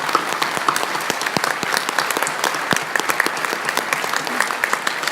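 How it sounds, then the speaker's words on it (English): A general-session audience applauds the NEB members, steady, full clapping for about five seconds with distinct, crisp individual claps popping out near the front. "Let's give them a round of applause."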